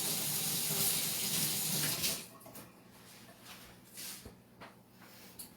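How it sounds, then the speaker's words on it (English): A kitchen tap runs steadily for about two seconds during handwashing, then cuts off, followed by faint dripping, splashing and handling sounds nearby. "let me wash my hands real quick"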